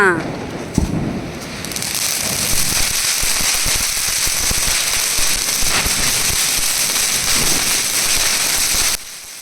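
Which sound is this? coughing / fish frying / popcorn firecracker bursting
popcorn firecracker bursting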